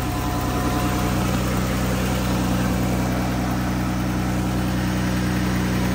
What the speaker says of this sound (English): We got the engine running.